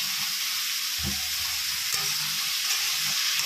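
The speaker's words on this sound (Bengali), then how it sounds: "আমি এবার সব একসঙ্গে মশলাগুলো দিয়ে মশলার মধ্যে দিয়ে ভেজে নেব" Pointed gourd (potol) fries in spice paste in a pan, a dense, constant hissing sizzle with a few soft low knocks from stirring underneath.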